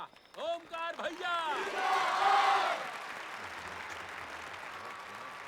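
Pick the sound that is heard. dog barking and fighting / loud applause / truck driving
loud applause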